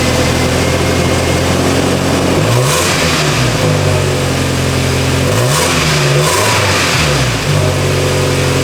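A Toyota Tacoma truck with a cracked exhaust manifold idles loudly up close and then revs several times, giving a raspy, leaky exhaust rumble that climbs and falls with each throttle blip.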